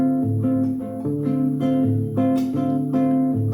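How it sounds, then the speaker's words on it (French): Bossa nova on acoustic guitar: plucked chords and bass notes in a gentle syncopated rhythm, close and clear, with no voice over them. "quand je touche la guitare, c'est pour faire un peu de bossa nova."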